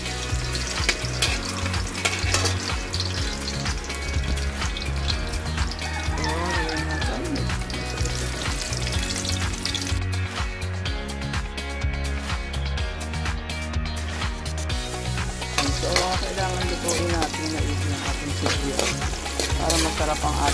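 Shrimp paste (bagoong) sautéing in hot oil for kare-kare: a continuous close sizzle and crackle with stirring, over a steady background of rhythmic music, with no clear speech.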